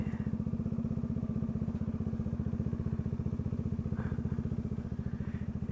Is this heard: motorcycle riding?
yes